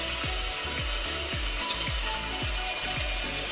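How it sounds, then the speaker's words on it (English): Ingredients for a pumpkin soup are stirred as they fry in a pot, with a steady sizzle running throughout and a spoon scraping around the pot in a regular rhythm, roughly every half second, close up and with no voices. "give this a stir, and just give it a couple of minutes"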